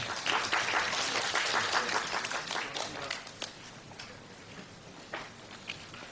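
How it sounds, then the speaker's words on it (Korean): An audience at a construction-industry training seminar claps to welcome a lecturer, a dense burst of applause that thins into scattered claps and fades. "모두 큰 박수로 맞이해 주시기 바랍니다"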